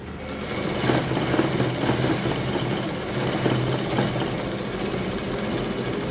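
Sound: sewing machine stitching the side seams of cloth

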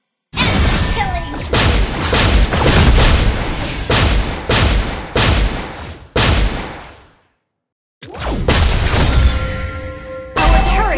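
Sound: turret under attack in video game

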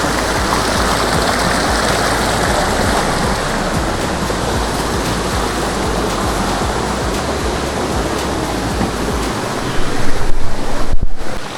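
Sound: rushing water and wind

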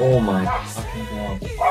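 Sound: neighbor's dog barking in the background

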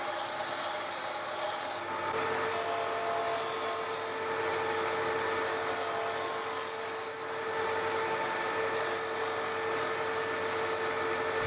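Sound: belt sander shaping salvaged oak guitar headstock

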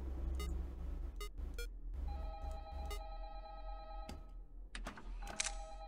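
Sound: phone ringing in the video game Five Nights at Candy's 2

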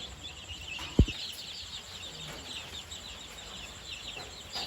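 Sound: domestic chickens clucking

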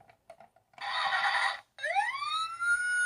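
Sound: toy fire truck siren sound

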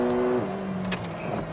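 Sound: McLaren GT 2022 car accelerating

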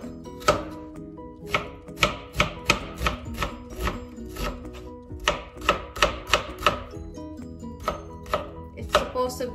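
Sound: knife finely slicing an onion

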